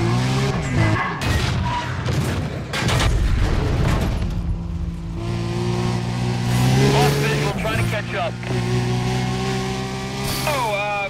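A crane crashes down during a Need for Speed Undercover police chase, a heavy booming impact and clatter amid revving engines and squealing tires, followed by sustained sirens and engine drone.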